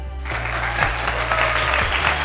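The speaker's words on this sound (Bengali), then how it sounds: "মঞ্চে গাড়িটা উঠতেই শোনা গেল অনেক হাতের তালি" Many hands clapping steadily in a large crowd as the Tata Nano car comes onto the stage at its launch event, a dense, continuous applause that swells slightly and stays loud throughout.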